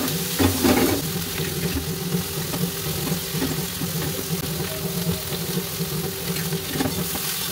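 Sliced potatoes fry in hot oil on a home kitchen stove, giving a steady, close crackling sizzle with occasional louder spits and a low hum beneath.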